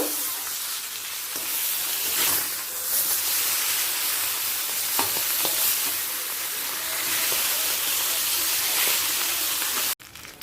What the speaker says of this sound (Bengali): দিয়ে দিচ্ছি মাছগুলোকে তেলের মধ্যে দু ভেজে তুলে নেব অপর পিঠটাও ভেজে নেব